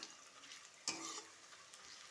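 Fried onions with ghee are stirred in a pan over a soft, faint sizzle, with one brief scrape of the spoon partway through.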